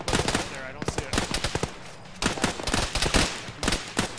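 Rapid bursts of automatic gunfire crack out in a military shooter game (Arma), sharp close volleys separated by brief pauses, with a second cluster of shots later on.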